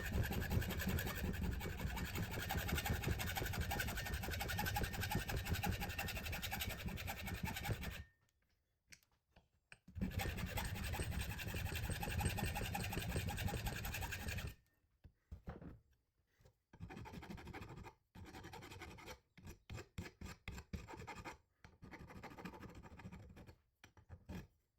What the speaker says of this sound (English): put my saw right in between here and get a nice clean cut